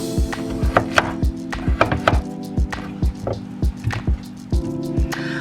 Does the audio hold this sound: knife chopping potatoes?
yes